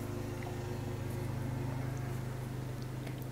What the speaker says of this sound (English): My husband's still mowing the grass.